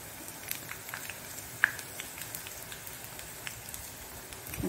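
Curry leaves and chillies fry in oil for okra chutney, with faint, scattered crackles and pops over a low hiss and no voices.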